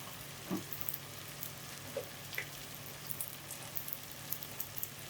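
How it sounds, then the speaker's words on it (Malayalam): Kashmiri chilli powder sautés quietly in a pan for paneer butter masala, a faint low sizzle with scattered soft ticks and pops, no voices over it. "ആ പച്ചമണം മാറുന്നത് വരെ നന്നായി വഴറ്റി കൊടുക്കാം."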